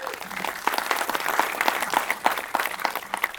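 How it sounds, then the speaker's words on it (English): An audience at a building-management conference applauds, a moderate, fairly dense patter of clapping with a few sharper individual claps standing out. "Can we get a round of applause for Matt, please?"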